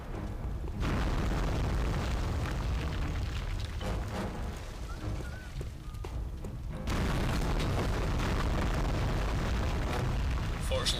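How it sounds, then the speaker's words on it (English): Explosive bolts from a giant crossbow-like ballista boom and burst in Dark Messiah of Might and Magic, a dense, continuous roar of blasts that fills the scene and swells again near the end. "Ballista's kind of like a giant crossbow kind of thing where it fires explosive bolts"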